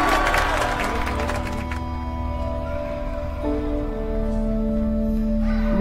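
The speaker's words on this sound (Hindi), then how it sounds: "तालियां बज रही है उस टाइम।" Clapping from a crowd in a large park, a burst of scattered applause at the start that quickly fades, leaving steady background hum and tonal music-like drones.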